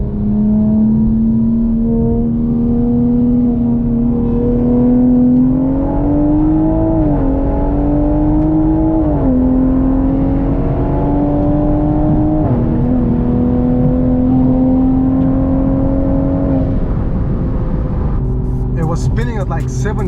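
A big-turbo Volkswagen GTI accelerates hard, its engine drone climbing steadily through several gear changes marked by brief dips in pitch, loud and close from inside the car for about seventeen seconds before easing off.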